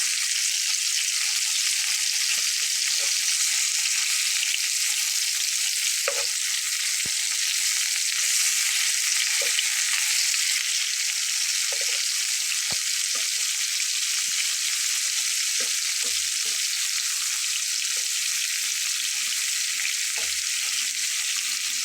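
Pieces of katla fish fry in a pan of hot oil for a kalia curry, a loud, continuous hissing sizzle held close for a long stretch, with faint scattered clicks and taps and no voices.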